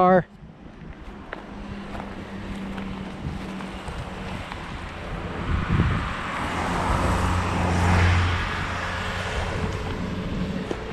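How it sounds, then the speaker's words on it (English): A car passes on a road during an outdoor walk: a broad swelling whoosh rises and fades amid wind noise on the microphone, with someone talking over part of it. "Car."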